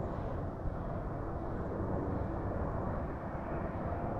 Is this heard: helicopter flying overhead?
yes